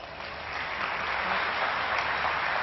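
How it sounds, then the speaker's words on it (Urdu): Studio audience at a Ramzan television show applauds steadily and loudly for the whole stretch, a dense, even wash of clapping with no pause. "ان کے لیے بہت ساری تالیاں"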